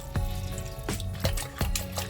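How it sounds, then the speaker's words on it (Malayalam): About a quarter glass of water is poured into mutton curry masala of garam masala, chilli powder, coriander powder and salt, giving several short splashing pours over a soft background hum. "ഒരു 1/4 ഗ്ലാസ്സിനടുത്തുള്ള വെള്ളം"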